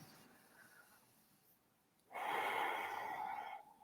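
A single deep breath, a soft faint inhale followed by a louder, longer exhale, taken quietly and alone during a guided calming exercise.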